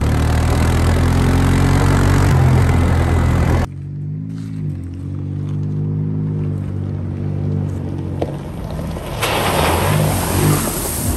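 A Ford Raptor pickup truck driving off-road at a deer camp, its engine droning steadily up close, then a sharp change in tone midway as the engine note shifts and rumbles on under rushing noise.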